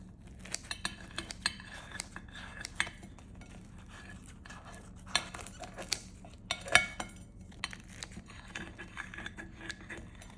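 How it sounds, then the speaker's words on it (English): A knife cuts a homemade high-protein pizza into four slices on a plate, giving a quiet series of close clinks, taps and scrapes against the dish with soft handling noise between them. "So I'm gonna cut it into 4 slices."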